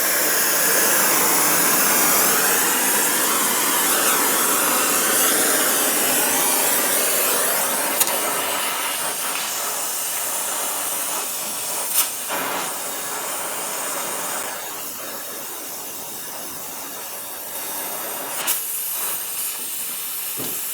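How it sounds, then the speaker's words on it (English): Steady roaring hiss of a torch flame heating broken exhaust manifold bolts on a GM 4.8, 5.3 or 6.0 V8, loud and continuous close up, with a few sharp clicks and taps near the end. "The torch can heat stuff up."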